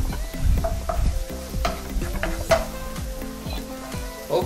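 Onions cook on low heat in a pan for a keto sweet potato quiche: a loud, continuous sizzle with frequent rhythmic scrapes and stirring clatter, close by and with no talk.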